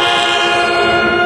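A New Jersey Transit locomotive horn blares in one loud, sustained chord held throughout, close by and alone.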